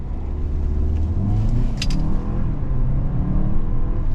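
2023 Hyundai Santa Fe Calligraphy AWD with a turbocharged 2.5 liter inline four pulling away, a steady low engine rumble rising under acceleration, heard from inside the cabin.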